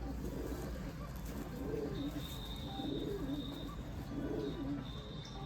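Rooftop pigeons kept as breeding pairs in Islamabad coo in soft, low, rolling phrases, repeated about three times at a steady pace over a constant background hiss.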